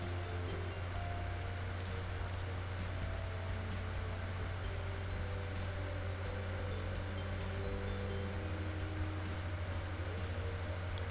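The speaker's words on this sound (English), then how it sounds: "let me power up the machine" A laptop powered back up after a hard drive clone gives a steady, even fan whir with a low hum, holding constant and close throughout with no speech.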